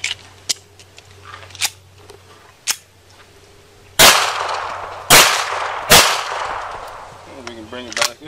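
Pistol shots crack at a shooting range, several sharp single reports at irregular intervals, the later ones louder and closer with a brief ringing tail, over faint background hum and light handling noise.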